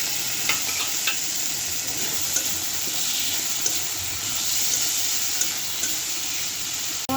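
Tomato cooks with ginger and garlic paste in a hot pan for an egg and potato dish, a continuous close sizzle and hiss with occasional sharp stirring clicks, no voices.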